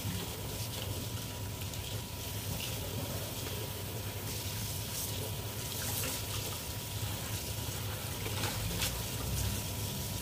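Tap water runs steadily into a sink while green leafy vegetables are washed in cold weather, a continuous close splashing gush with no talk over it.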